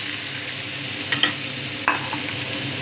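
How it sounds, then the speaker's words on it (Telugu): Onions and green chillies fry in hot oil with a steady broadband sizzle, broken by a few sharp clicks of a spoon stirring the pan, close and continuous with no voices. "ఇవన్నీ మంచిగా ఫ్రై అవ్వాలండి ఆయిల్లో"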